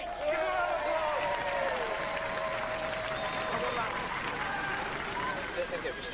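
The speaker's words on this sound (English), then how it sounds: "Ladies and gentlemen, GBH, give them a round of applause" A studio audience claps for the robot-combat team GBH, steady applause throughout with some voices and background chatter mixed in.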